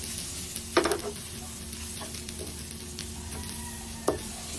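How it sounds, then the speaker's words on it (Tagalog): Lechon kawali is sautéed with vegetables for pinakbet, giving a steady, close sizzle under a faint hum, with two sharp scrapes of a spatula against the pan. "Isama na rin natin sa paggisa syempre para maging masarap ang ating pinakbit."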